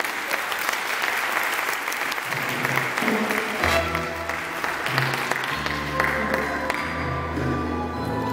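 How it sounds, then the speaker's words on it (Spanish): A crowd at a danzón festival in Tijuana applauds to welcome a performer, steady clapping while a sustained musical tone and chords start up underneath partway through. "Pues un aplauso para recibirlo"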